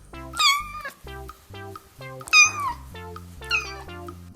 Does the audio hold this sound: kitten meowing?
yes